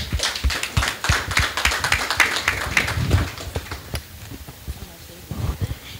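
An audience at a talk on sociological perceptions of artificial intelligence claps for Monsieur Suleiman, with sharp scattered claps over a murmur of voices, loud for about four seconds and then thinning out.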